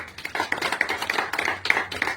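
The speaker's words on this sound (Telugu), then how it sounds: "మున్సిపల్ కార్మికులకు ఒక గట్టి చప్పట్లతో మీరు అభినందించాలని చెప్పి" A crowd gives steady, dense applause at a ceremony honouring municipal sanitation workers in Kadapa, the clapping loud and continuous throughout.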